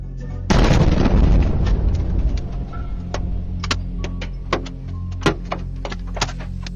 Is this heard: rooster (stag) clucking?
no